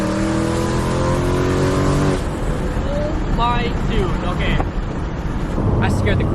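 A supercharged Mustang GT making over 700 horsepower accelerates hard in first gear, its engine note climbing in a loud harmonic rise before a shift, then settling under wind noise while someone shouts excitedly over it.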